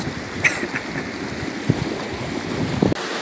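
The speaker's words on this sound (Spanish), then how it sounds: "Están cruzando el río." River water rushing loudly and continuously as people wade across, with gusts of wind buffeting the microphone.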